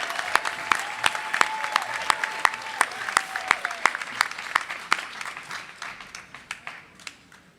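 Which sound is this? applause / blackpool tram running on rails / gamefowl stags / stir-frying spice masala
applause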